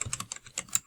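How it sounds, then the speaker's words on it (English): Brisk typing on a computer keyboard in an office setting, a short burst of a dozen or so close, crisp key clicks in quick uneven rhythm, then stopping. "oh, I think we just typed the one word, hopeful."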